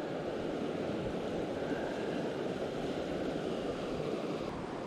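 Steady wind roars by a trout river, a dense, continuous rushing that fills the clip with no breaks and no voices.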